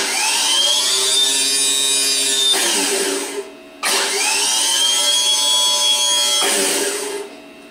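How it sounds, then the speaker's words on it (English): A rebuilt starter motor from a 5MT car spins up to high RPM in two separate bursts, each a loud, close, rising electric whine that holds steady and then winds down, with a short gap between them. "listen to the starter and make sure that it achieves a higher RPM like this."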